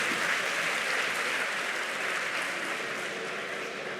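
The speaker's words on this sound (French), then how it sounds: "On peut les applaudir" Steady, dense applause from a convention audience at a panel with Charmed actors, filling the whole stretch at an even, loud level with no voices.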